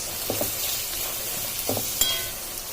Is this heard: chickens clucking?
no